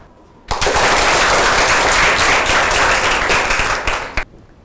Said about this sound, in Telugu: మరి ఈ టీంని అభినందిస్తూ మనందరం చప్పట్లు కొడదామా?